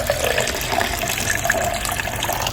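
Water pours steadily into a salted yogurt drink being mixed at home, a continuous splashing trickle close by with no voices.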